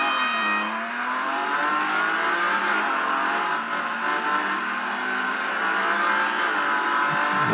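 A car racing video game plays on a Xiaomi Mi Max 2 phone, with a steady revving engine tone that rises and falls as the car weaves through traffic, heard alone without talk.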